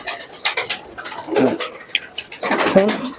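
A pair of red-necked native pigeons, male and female, coo in two distinct bursts against a busy loft background, fairly close and clear, with scattered other noises between calls.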